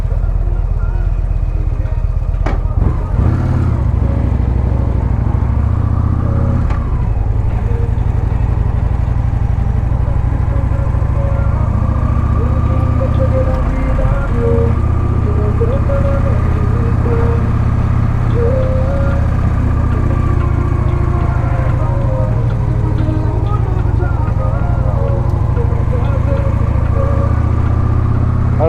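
A Victory Vision touring motorcycle from the Polaris group rides on a cool day, its engine a steady low drone with wind roar, loud and continuous throughout with small shifts in pitch.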